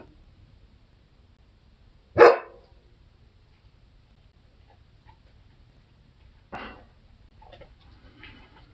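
A puppy lets out one sharp, loud bark, then after a long quiet pause a second, softer bark and a few small yips, close by in a quiet room.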